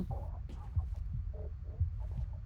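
Heartbeat sound effect in the horror game Devour, slaughterhouse level: a low, muffled thumping pulse beating steadily at about one beat per second under a droning hum.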